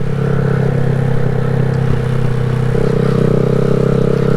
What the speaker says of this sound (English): This is a 2020 Grom, Honda Grom.